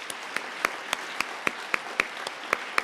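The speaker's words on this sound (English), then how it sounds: "Let's just give another round of applause for our award winners and what they're doing." Graduation luncheon guests give a round of applause for award winners, a fairly quiet, sparse clapping with a handful of distinct hand claps spaced evenly over a softer crowd wash.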